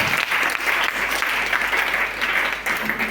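A church congregation claps together in dense, steady applause that stays loud and even throughout, with faint voices underneath.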